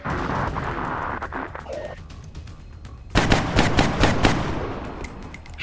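Gunfire in the turn-based tactics game XCOM Long War: a dense burst of repeated sharp shots erupts about halfway through, loud and rapid, after a quieter stretch of muffled battle ambience.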